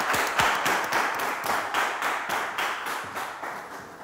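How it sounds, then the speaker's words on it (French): Game-show studio audience applauding a contestant named Carlos, a steady patter of many hands clapping close by for several seconds, with no one talking. "Merci de l'applaudir."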